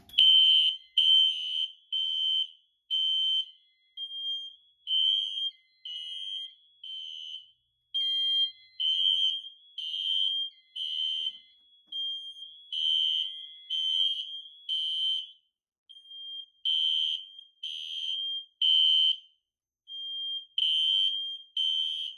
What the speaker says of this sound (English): Now let's sound the system in full alarm.